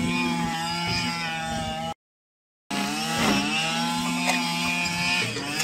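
A lawn mower mows nearby with a continuous, buzzing engine drone, loud and steady, broken by a brief gap of silence before it carries on.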